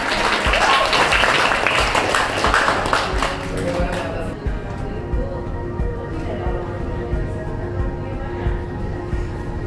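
An audience claps at a coaching session for contestants. A dense, loud burst of applause for the first few seconds thins into scattered claps and crowd murmur.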